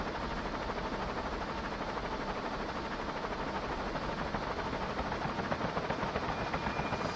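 A helicopter flies close by in the video game Just Cause, a steady dense rotor and engine roar that holds loud and unbroken throughout, with no speech.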